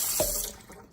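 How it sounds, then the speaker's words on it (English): Water pours briefly from a tap into a Ninja blender smoothie cup, giving one short, soft splash that fades within a second, with no talking. "first I just put in a little bit of water"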